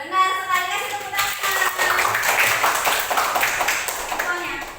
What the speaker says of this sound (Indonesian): Benar sekali, kasih tepuk tangan.